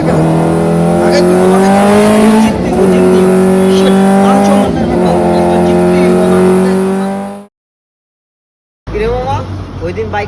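Racing motorcycle engines whine loudly with high, sustained revving and tire squeals, cutting briefly to silence before the roar returns.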